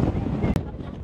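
Strong wind buffets the microphone outdoors on a coastal sightseeing route in Taiwan, a steady loud rumble over the whole second with a brief dropout near the middle.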